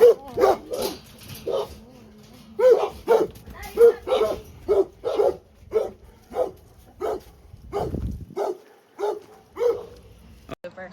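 Dogs bark in repeated sharp bursts inside a rescue dog shelter, loud and close, with yips and whimpers between the barks and a person's voice faintly under them.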